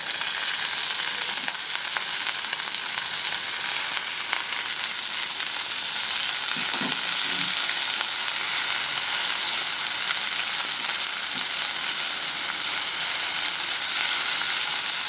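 Chickpea greens tossed into a hot, reddened oil tempering in a village kitchen give off a steady, loud, continuous sizzle with a faint stir partway through.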